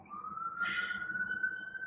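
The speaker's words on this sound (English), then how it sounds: "I live close to a hospital, so I'm going to get the sirens every so often" A distant siren near a hospital holds a steady high tone through the whole stretch, faint but clear, with a brief burst of noise partway through.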